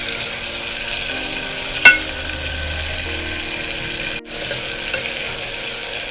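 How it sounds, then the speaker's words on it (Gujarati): Tomatoes and masala frying and being stirred in a pan for a Gujarati-style stuffed brinjal and potato curry: a steady, close sizzle runs throughout, broken by one sharp utensil clack against the pan. "ટમેટા સતળાઈ જાય ત્યાં સુધી હલાવશું"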